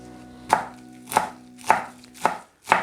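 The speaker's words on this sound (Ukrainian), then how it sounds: "Шаткуємо капусту" Five crisp knife chops shred napa cabbage on a cutting board at an even, unhurried pace, close and clear with nothing else around.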